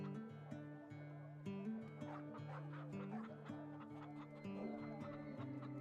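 Chickens cluck in a video game, short, soft clucks scattered over a steady backdrop of sustained musical tones throughout.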